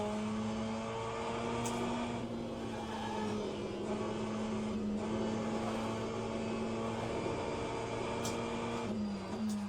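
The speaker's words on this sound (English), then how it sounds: "you hear a tire squeal when I really push the front tires to go around the corner and they really scrub the surface" A Ferrari 488 GTE racing through a fast corner at Fuji in Le Mans Ultimate: a steady engine drone with high whining tones, and faint tire squeal rising now and then as the front tires scrub the surface.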